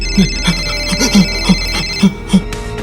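A phone ringtone rings loud and close, a repeating electronic melody of short evenly spaced tones, with no voices over it, set in a haunted bus thriller.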